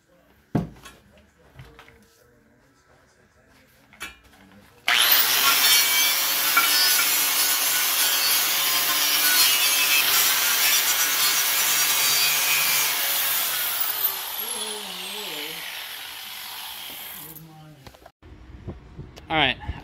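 A power tool cuts the lip off a steel tank being made into an oil-burning stove. The loud abrasive grinding starts suddenly, runs steadily for about twelve seconds, then stops, with brief clanks and talk before and after.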